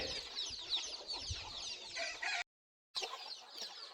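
Free-range village chickens on a small poultry farm, several hens clucking and chattering continuously at close range, with a brief dropout near the end before the clucking resumes.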